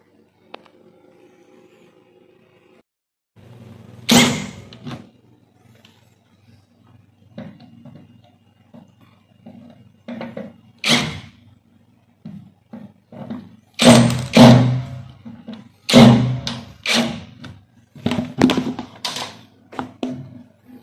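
A front-load washing machine being tipped over onto its side during repair, giving several heavy, loud thuds and knocks with scraping in between, the biggest impacts coming close together in the second half.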